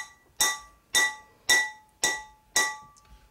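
Five evenly spaced metallic taps ring out crisply as a hammer held in the hand strikes a Harley shovelhead engine part, each strike leaving a short bright ringing tail, with no voices.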